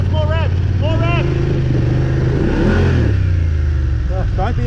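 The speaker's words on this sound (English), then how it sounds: "Hand off the clutch, let the clutch out and hold the revs on." BMW motorcycle engine held at raised revs during a riding lesson, a steady loud drone swelling and easing, with an instructor's voice speaking over it at the start and end.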